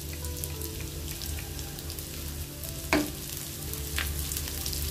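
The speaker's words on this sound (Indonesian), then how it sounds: "Goreng rebon sampai setengah kering." Dried small shrimp (rebon) frying in hot oil, a steady soft crackling sizzle with one sharp clatter of a utensil partway through.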